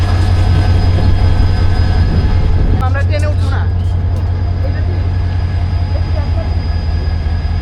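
A train rumbles steadily at Gaibandha railway station in Bangladesh, with a brief squeal of wheels and metallic clatter midway, loud and close.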